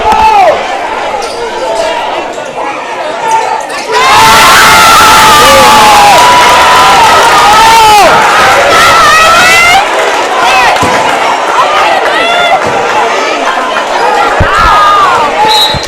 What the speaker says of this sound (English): Good crowd here, good noise, good energy.